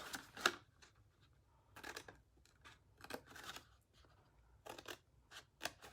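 Scissors snip along the score lines of a paper gift box in short, separate crisp cuts with quiet pauses between them, close and fairly soft.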